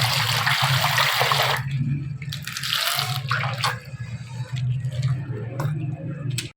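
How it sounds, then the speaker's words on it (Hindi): Water drains through a strainer as boiled milk is strained to separate paneer for gulab jamun, a loud rushing pour at first, then intermittent gushes and trickles over a low hum. "पानी स्टेन हो रहा है"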